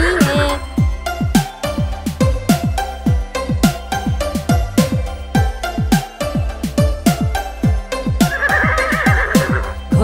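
A strong Arabian horse whinnies loudly over a steady clip-clop of hooves and a bouncy children's nursery-rhyme backing track.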